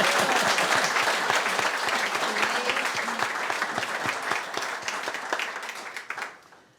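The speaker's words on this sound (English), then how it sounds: "we need to applaud loud enough that she can hear us at her house" Audience applause at a land trust's annual meeting, a dense, sustained burst of clapping from a room of people that gradually fades out near the end.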